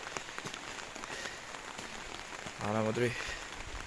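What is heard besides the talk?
rain falling outdoors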